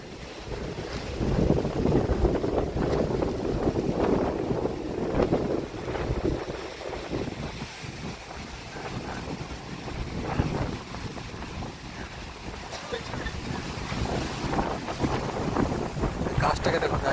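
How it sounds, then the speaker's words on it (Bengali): Strong gusting wind during Cyclone Remal roars steadily and loudly across the microphone outdoors near a flooded pond and trees, buffeting continuously with surging peaks throughout. "এত বাতাস হচ্ছে, এখানে দাঁড়ানো যাচ্ছে না।"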